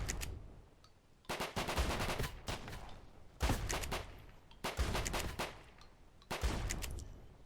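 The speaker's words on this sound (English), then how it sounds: "Luckily, shotguns are pretty good at range in this game." Shotgun blasts in the survival shooter Deadside: five heavy, separate shots spaced about a second apart, each a sharp boom trailing into a rumbling echo, fairly distant and quiet overall.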